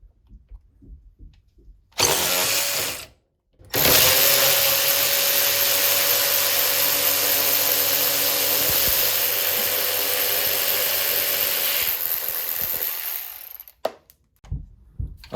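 A Dewalt 12V power ratchet backs off a tight screw with a loud, close, steady motor whir. A brief burst comes first, then a short pause, then one long continuous run before it stops.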